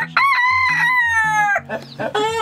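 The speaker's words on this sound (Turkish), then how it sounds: "işte bu benim horozum arkadaşlar" A rooster crows loudly and close by in one long, drawn-out call, followed by shorter clucking notes from the flock.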